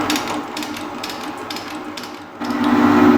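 A metal shaper running at 122 strokes per minute takes a light scrape cut, with a rhythmic clacking ratchet beat from each stroke, loud and close, and a heavier grinding surge near the end.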